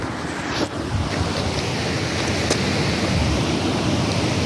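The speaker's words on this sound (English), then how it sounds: "Watch, you'll see the river right now." A river swollen by heavy rain and running far higher than usual rushes in a steady, loud, broadband roar with wind buffeting the microphone throughout, no voices.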